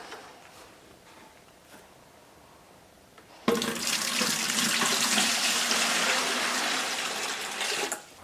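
Water gushes from a tap into a container to mix plaster for bronze casting molds, a loud steady splashing stream that starts abruptly after quiet room noise and cuts off near the end.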